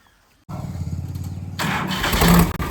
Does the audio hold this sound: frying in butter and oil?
no